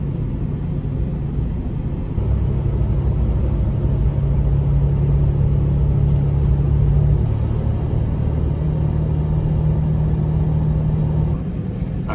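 A broken rental car on the Greek island of Sifnos rolls along slowly at about 40, its cabin filled with a steady low rumble and droning hum that swells slightly midway, with no voices present.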